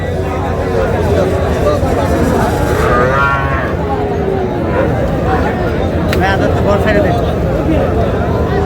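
Several cattle, including Sahiwal bull calves, moo over steady crowd chatter at a livestock market in Cumilla, with calls rising now and then above the background hubbub.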